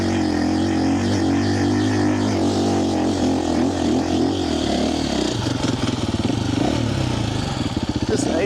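A 2025 KTM Champion Edition motorcycle works its engine steadily off-road, droning loud and close throughout with rising, pulsing revs near the end as someone talks over it.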